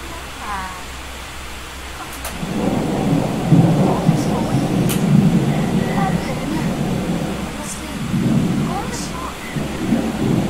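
Rain pours steadily and thunder rumbles low in a Disney Princess video game, a broad roaring wash that swells after two seconds and continues under a voice talking over it.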